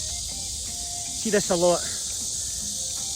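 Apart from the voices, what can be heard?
cicadas buzzing in a park in Wuhan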